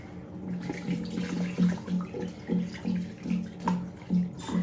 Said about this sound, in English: run the warm tap into the bowl and put the flannel in